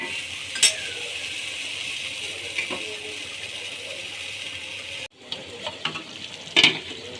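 Meat sautéing in a pan with a homemade spice mix sizzles under a constant hiss, with scattered metal clinks and scrapes of a stirring spoon and a brief break in the frying near the end.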